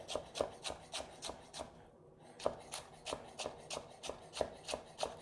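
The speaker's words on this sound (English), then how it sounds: "So now I'm just gonna sort of hold it down and run my knife through this way." A broccoli stem being sliced into thin matchsticks with a knife on a board, a quiet, steady series of crisp cuts in a regular rhythm with a brief pause midway.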